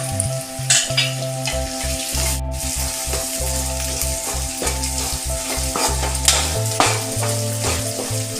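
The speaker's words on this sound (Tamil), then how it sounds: "இப்போ எடுத்து வச்சுருக்கிற வரமிளகாய் சேர்த்துக்கலாம்" Dried red chillies fry in a hot pan for chicken uppu kari, making a continuous crackling sizzle with scattered sharp pops and stirring clatter over a low steady hum.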